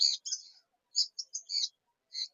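A male blue macaw at a winter bird market gives a series of short, faint, high-pitched calls in separate bursts with quiet gaps between them.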